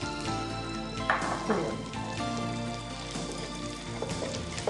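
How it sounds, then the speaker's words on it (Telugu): Garlic pieces frying in heated oil and butter in a TV-studio kitchen, a steady crackling sizzle running throughout with a few brief louder spatters, voices and background hum sitting underneath. "నూనె, వెన్న కాగింది. గార్లిక్ వేసుకోవాలండి."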